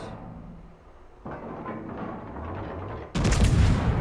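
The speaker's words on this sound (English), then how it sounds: "Watch the shells coming in from these cruisers." Cruiser shells fire in a naval warfare game, a rumbling barrage that grows louder in steps, ending in a heavy, close burst of gunfire.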